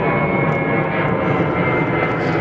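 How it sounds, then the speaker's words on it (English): A fixed-wing airplane passes overhead near a boat build site, a steady, loud engine roar that fills the whole stretch without letting up. "Another airplane."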